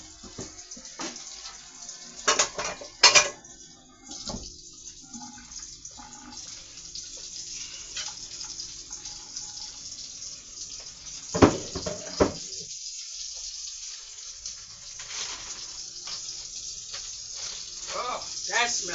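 Kitchen sink water runs in irregular bursts and splashes while dishes clink, loud spikes scattered through a steady rush, with some quiet gaps; no one speaks.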